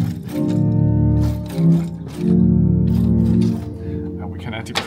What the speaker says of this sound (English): We are starting with a 16-foot principale,